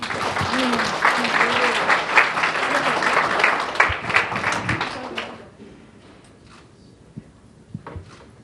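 Loud, dense applause from a crowd for about five seconds, then dying away to a few scattered claps and quiet room noise.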